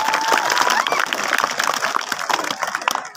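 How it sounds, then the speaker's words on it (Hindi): Audience at a school award ceremony for class 9 and 10 results, applauding loudly and continuously. The dense clapping runs throughout, with a faint voice or tone heard early on. "आपके सामने जोरदार ताली लगाइए"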